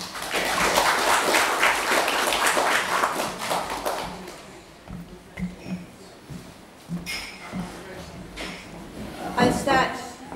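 Audience applause greeting a speaker at a talk, a loud burst of clapping that fades after a few seconds into scattered taps and thumps as a voice begins speaking.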